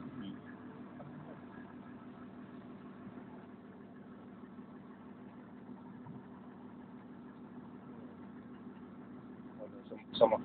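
Volvo 360 excavator engine with hydraulic oil overheating, idling with a steady low rumble and even mechanical beat, moderately close, a brief louder clatter at the very end.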